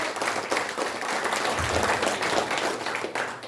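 Sustained applause from a ceremony audience welcoming members of a humanities research institute, many people clapping together in a steady, moderately loud roar without a break.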